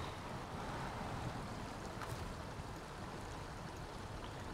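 River water in the SnowRunner video game sweeping a trailer away, a steady broadband rushing wash with no speech over it throughout.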